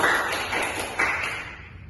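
Classroom applause for a student group, a brief burst of hand clapping that swells twice and then fades out within two seconds.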